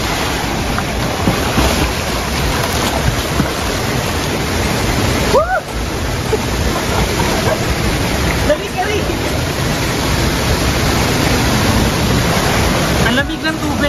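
Busay Falls in Biliran Province pours with a loud, constant roar of falling water heard up close, a dense unbroken rush that fills the whole clip, with a faint voice briefly audible.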